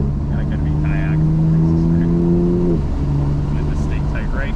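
A BMW F80 M3 engine drones loudly from inside the car on a race track, its steady tone climbing in pitch, then dropping and settling again, with faint voices underneath.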